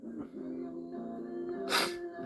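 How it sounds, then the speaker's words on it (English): A single sneeze bursts out near the end of a short stretch of low, tonal background sound, sharp and close with a hissy release. "I sneeze all the time."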